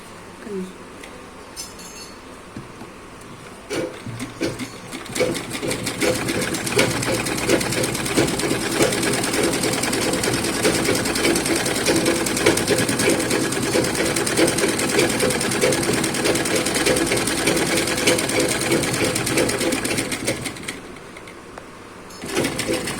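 A sewing machine stitches a cross-cut blouse, whirring continuously at a fast even pace for most of the stretch, close and prominent, stopping briefly near the end.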